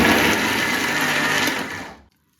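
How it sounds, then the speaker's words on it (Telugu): Mixer grinder whirring as it coarsely grinds squeezed soya chunks, a loud steady motor whine that runs for about two seconds before cutting off abruptly into silence. "జార్లో వేసుకొని మిక్సీ పట్టుకోవాలి లైట్గా పట్టుకోవాలి కీమా లాగా పట్టుకోవాలి"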